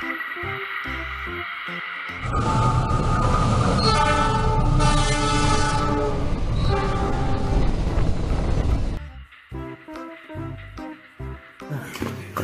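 Train wagons roll past in Jurassic World Evolution 2, a loud steady rumble with rhythmic clatter that swells after a quieter start and fades out near the end, with a horn-like tone mixed in.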